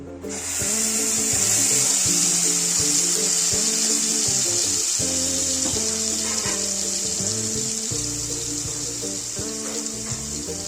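Ground onion-tomato paste hits hot mustard oil in a pan for a soybean and potato curry, setting off a loud, steady hissing sizzle that runs continuously, with music playing underneath.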